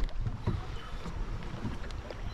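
A small boat heading back to an island in Fiji moves across water unsteadily, with choppy splashing and wind buffeting the microphone, steady and close.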